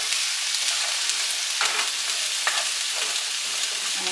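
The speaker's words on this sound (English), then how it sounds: "I'm going to stir this up and let it saute." Steady close sizzle of fish stew sautéing with dill and basil, with occasional scraping stirs through the pan noise and no talking.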